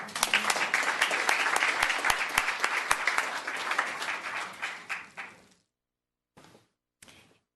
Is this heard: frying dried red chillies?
no